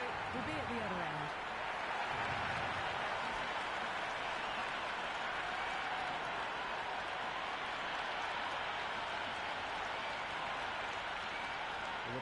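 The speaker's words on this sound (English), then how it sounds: "this crowd is already making it hard for me to be heard" A stadium crowd in the Cricket 26 video game for an India vs West Indies T20 World Cup match roars as a broad, constant wash of cheering and applause, with commentary voices speaking over it.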